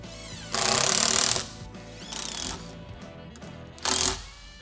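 Clamps ratchet and buzz as shelf boards are fastened on a storage shelf build, three harsh bursts of rapid mechanical clicking, the first longest, close by and without talk.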